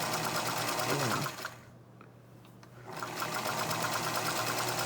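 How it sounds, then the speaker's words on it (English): A Featherweight sewing machine stitches steadily and close, its fast needle rhythm running loud, pausing briefly in the middle before resuming. "And I'm stitching on my featherweight, which I love."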